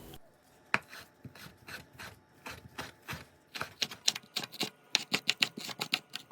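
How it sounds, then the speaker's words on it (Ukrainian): Rapid knife chopping of a bunch of dill on a board, a steady run of sharp taps that quickens and grows louder toward the end, close and with no talking. "Беру добрий пучок кріпу, нарізаю дрібненько."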